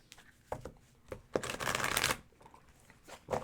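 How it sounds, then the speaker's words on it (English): Tarot cards being shuffled by hand, soft riffling bursts near the mic with a longer flurry in the middle, quiet and without talk. "Go ahead and shuffle."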